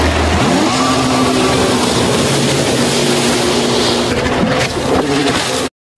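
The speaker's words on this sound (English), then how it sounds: "Water scooter." A water scooter engine revs loud and close, a droning motor whose pitch rises early and then holds steady with a buzzing whine before ending abruptly.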